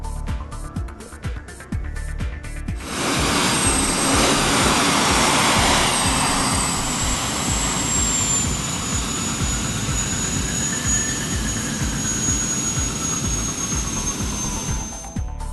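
The Frictionator, a 7,000-horsepower jet-engine car at a Miami speed festival, spools up into a loud, continuous roaring whine after a few sharp pops, holding a steady close blast with a high whistling tone for over ten seconds.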